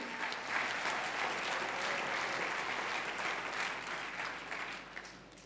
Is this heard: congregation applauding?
yes